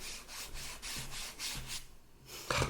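Liquid charcoal is rubbed on sketchbook paper in a quick series of close, rhythmic scratchy back-and-forth strokes, about five passes, then a pause and a small tap at the end.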